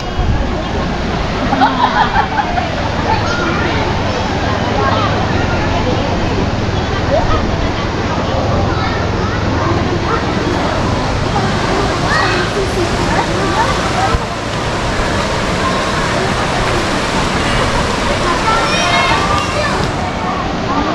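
A river flowing toward Saguling and the Citarum in West Bandung churns steadily and loudly throughout, a dense rushing wash of water with faint voices mixed in.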